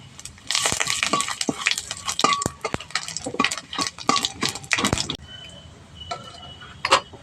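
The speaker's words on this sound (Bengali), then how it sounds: "ফোড়ন ভালো করে ভেজে নিয়েছি।" Dry red chillies, whole cumin seeds and bay leaves crackle and spit in hot oil for a tempering, with dense close popping and scraping that cuts off partway through. A few scattered pops follow.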